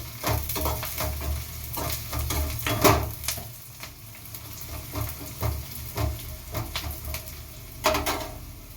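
Green chillies are frying with lightly browned onions in hot oil, a continuous close sizzle broken by repeated scraping stirs and spatula knocks against the pan at an uneven rhythm.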